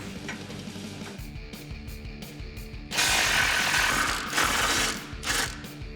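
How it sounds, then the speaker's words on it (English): A ratchet on an 18 mm socket loosens frame nuts on a Jeep Gladiator, making rapid pawl clicking in bursts, close and crisp, with a louder, faster run of clicks midway and no talking. "Grab an 18 millimeter socket, and you may want an extension. Get these removed."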